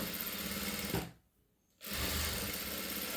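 A sewing machine stitches along the last edge of a hook strip with a close, steady whir. The run breaks briefly in the middle, then resumes at the same pace.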